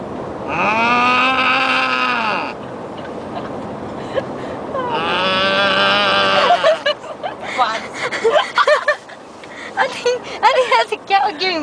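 A person imitates a cow with two long, drawn-out moo sounds, loud and close, then excited talking and laughter follow.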